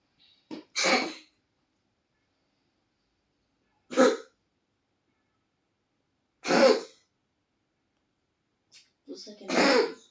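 A child coughs four separate times at night, spaced a few seconds apart, each a short harsh burst, close by, with silence in between.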